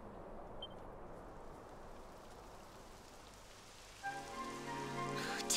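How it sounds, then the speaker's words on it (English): Rain falls steadily in the video game Dragon Quest XI S, a soft even patter that grows denser and louder near the end as tonal game music rises over it. "It would have to go and start raining, wouldn't it?"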